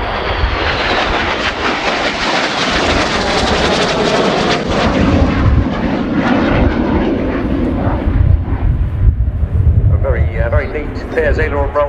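A Spanish Navy EAV-8B Harrier II+ flies a display at RIAT with a loud, roaring jet engine that surges and rushes continuously overhead, shaped by wind noise. An announcer talks over it throughout.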